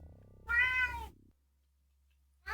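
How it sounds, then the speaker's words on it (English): A pet cat meows once, close and fairly loud, a drawn-out call against a quiet room with a low steady hum, followed by a long silence before another sound begins at the very end. "Especially with my cat being a jerk right now."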